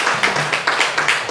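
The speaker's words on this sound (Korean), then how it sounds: "자, 우리 박수 한번 이렇게 부탁드리겠습니다." A church congregation claps during a Sunday worship service, a dense burst of applause rising in several uneven waves over a moment, close and lively with no talk.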